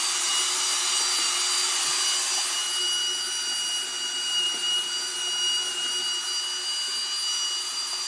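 Power mixer stirring thick 2:1 sugar syrup, a constant high-pitched motor whine with a steady broadband whir, loud and close throughout with no voices.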